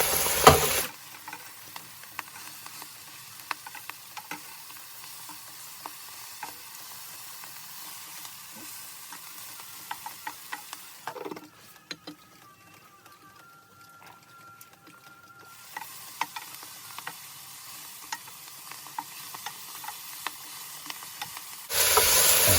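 Fresh garden spinach cooks in a pan, with a steady low sizzle and occasional scrapes and clinks of stirring, going quieter for a few seconds in the middle.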